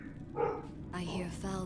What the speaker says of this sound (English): You can probably hear the dogs barking.